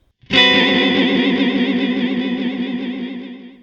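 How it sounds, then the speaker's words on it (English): A single sustained guitar chord rings out through a BOSS DD-500 digital delay pedal with deep, fast modulation, its pitch warbling and wobbling as it slowly fades. "Let me show you what it sounds like with the modulation depth turned right up."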